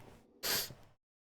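A single short, sharp sneeze bursts out close to the microphone after a faint breathy lead-in, then silence.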